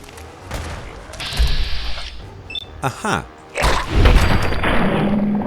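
Gunfire rings out in a video game tannery building where ghouls and rival factions clash, with bursts of sharp shots and booms amid clattering mechanisms and grunts, loud and uneven, while a voice briefly exclaims.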